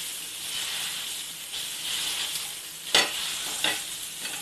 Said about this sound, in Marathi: पावभाजीचा जो स्मॅशर असतो त्याने हे व्यवस्थित असं मिक्स करून घ्यायचं